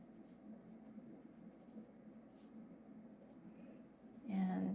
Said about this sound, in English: I'm not going to draw like all the spots, but let's just draw some spots.